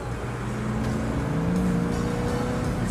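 An open-top sports car engine rumbles steadily at a low pitch and rises slightly in tone, a continuous close drone with no voices.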